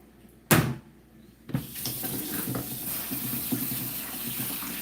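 Kitchen tap water running steadily into a sink to rinse soaked beans, starting after a couple of sharp knocks and continuing as a constant close splashing rush.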